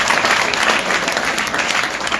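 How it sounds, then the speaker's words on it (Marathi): A seminar audience at a motivational mind-power session bursts into loud, dense applause, a steady roar of many hands clapping together from start to finish with no speech over it. "7 जोरदार टाळ्या वाजवा."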